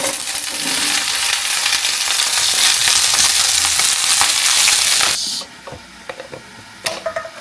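Cauliflower drops into hot white cooking oil, bursting into a loud, close, hissing sizzle that lasts about five seconds, then falls abruptly to a faint crackle with a few light knocks.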